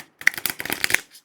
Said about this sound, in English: So it's not an easy riffle shuffle.